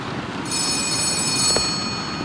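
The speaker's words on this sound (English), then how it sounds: "Yeah, that's the phone." A telephone rings in a postman horror game, a steady electronic bell tone that starts about half a second in and carries on to the end over a low ambient hum, fairly close and clear.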